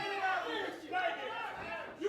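A wrestling arena crowd cheers and shouts in a steady, dense roar of many voices that stays at an even level throughout, heard with some distance.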